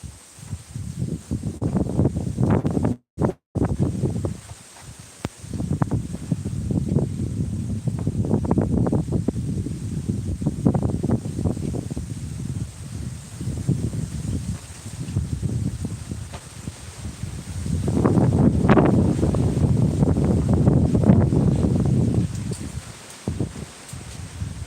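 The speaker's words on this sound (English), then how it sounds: "Amazing how that wind is sucking through the back." Wind rushes through the back vent of a wood-fired oven, a continuous roaring, rustling whoosh that surges and eases in gusts with brief dropouts.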